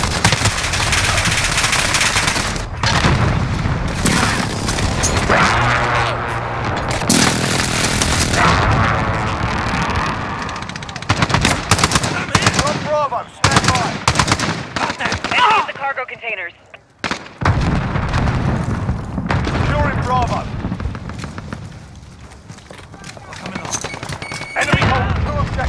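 Heavy gunfire and booming airstrike blasts in a Call of Duty Modern Warfare battle, loud and dense with bursts of automatic fire, explosions and brief lulls, with voices speaking over the combat.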